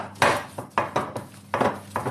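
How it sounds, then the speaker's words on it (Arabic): Oiled baking tray holding spinach pie dough is banged down on a counter several times, giving four or five sharp hollow metallic knocks at an uneven pace, close and fairly loud, with no talk. "تخبطوها هيك خبطه عشان تهبط"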